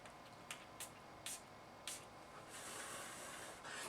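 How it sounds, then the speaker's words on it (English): A few short, faint hissing bursts from a sprayer mist Frankincense and Myrrh fragrance, then a longer steady spray near the end, in a quiet room. "now let's spray it. Put it in a sprayer."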